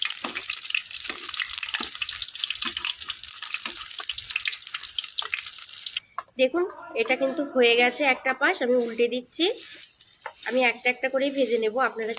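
Potato and semolina batter frying in a wok, steady hiss and sizzle for the first half, then a voice speaks over softer frying.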